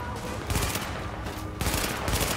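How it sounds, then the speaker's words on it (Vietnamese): Bursts of rifle fire in the shooter game Tom Clancy's The Division on PS4, coming as a few loud clustered volleys, with one near the start and another louder burst later, alone with no talk. "Cái cây này burst fire"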